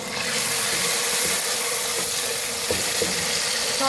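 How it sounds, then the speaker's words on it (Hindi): Water, about half a cup, pours into a hot pan of moong dal with tomato, a loud, close, steady rushing hiss that continues without pause. "थोड़ा सा पानी ऐड कर देंगे,"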